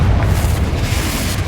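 A Confringo fire blast spell exploding in Hogwarts Legacy, a loud, deep sustained boom with a rumbling low-end roar that fills the moment without any voices.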